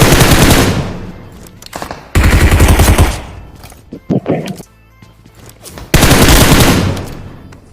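Bursts of automatic gunfire from the mobile battle game BGMI (PUBG) rattle loud and close in three long volleys, with scattered shots and game effects in between.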